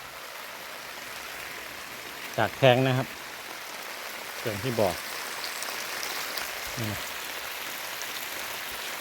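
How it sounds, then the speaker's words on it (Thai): Rain falls outdoors over a newly dug, rubber-lined farm pond, a steady faint patter and hiss throughout, while someone speaks a few brief phrases over it. "ทำเสร็จก็ฝนตกพอดีก็"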